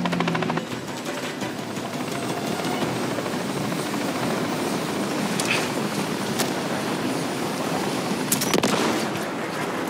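A helicopter flies in the Call of Duty Modern Warfare 3 campaign, its rotor roaring loud and steady for the whole stretch. Sharp bursts of game gunfire and impacts punctuate the drone, with no talk over it.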